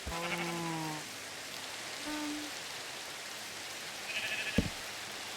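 Sheep in Minecraft give a couple of short, soft bleats, one near the start and another about two seconds later, over a steady faint hiss, with a brief sharp click near the end.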